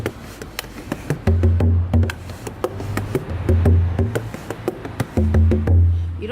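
A bodhran frame drum struck in a steady rhythm with the left hand resting lightly on the skin, giving deep, boomy, resonant thumps up close, with no talk over it.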